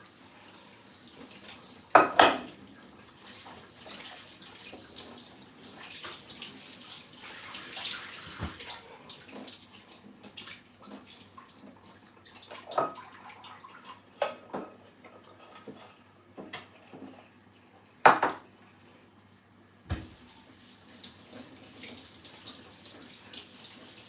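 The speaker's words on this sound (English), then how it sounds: "Just let the water run over it." Tap water runs steadily into a sink while food is rinsed in a home kitchen, with a few sharp clinks of dishes and utensils standing out now and then.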